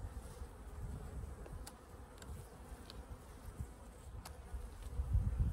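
Honey bees buzz steadily through an early spring hive inspection, a close, continuous low drone of many insects that swells a little louder toward the end.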